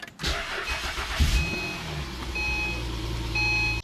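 An Acura TL cranks briefly and catches after a wheel bearing repair, settling into a steady idle close by, with thin high beeping tones chiming over the engine.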